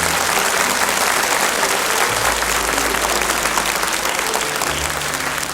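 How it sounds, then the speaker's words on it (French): A studio audience at a 1988 French children's TV talent show claps loudly and steadily, a dense, sustained wash of applause running through the whole stretch without any voices. "David, on applaudit très fort"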